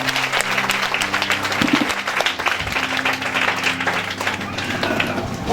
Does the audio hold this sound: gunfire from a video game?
no